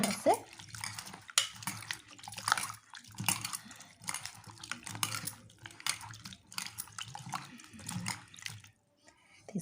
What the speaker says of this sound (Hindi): और सहजन को भी धो लेती हूँ